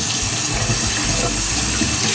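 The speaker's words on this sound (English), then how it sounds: "So I want to run like some, not super hot, not super cold water and just start wetting it" Lukewarm tap water running steadily into a sink to wet stained Baby Alive doll clothes, a loud, constant close rush of flowing water with no talk.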